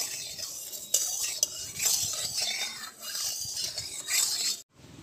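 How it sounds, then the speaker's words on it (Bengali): Hot mustard oil swirled around an Indian kadai, a steady close sizzle with light scraping and a few metallic clinks, ending in a sudden brief quiet. "তেলটাকে আমি কড়ার চারিদিকটা একটু চাড়িয়ে নেব।"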